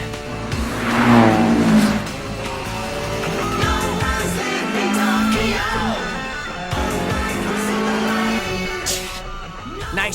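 A Toyota MR2 or 180 racing car engine revs and accelerates on a winding road in a race, with rising and falling engine pitch, passing sweeps and a brief tire squeal, loud and close throughout.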